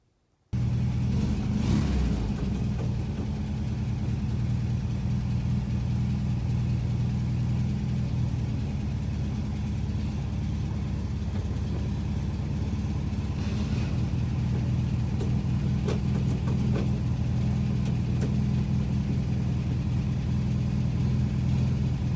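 A 1964 Volkswagen Beetle engine runs steadily on its first drive, a loud continuous low rumble with slight revving changes throughout and no talking.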